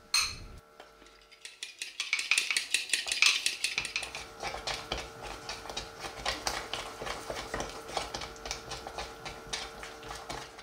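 A spoon stirs apple compote thickened with starch in a cooking pot, making a steady, rhythmic run of close scraping and light clinking strokes against the metal that continues for several seconds without speech.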